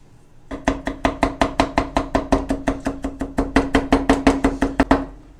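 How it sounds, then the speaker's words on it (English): A knife rapidly minces smashed, flattened garlic on a cutting board, making a steady run of about twenty-five crisp, evenly spaced chops, close up and alone. "we're going to start by taking the garlic and smashing it down, getting it flat. We're just going to begin to mince."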